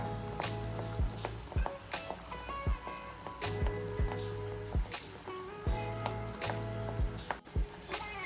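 Steady crackling sizzle of puri frying in hot oil, with occasional sharp pops and light clinks of a utensil, no voices.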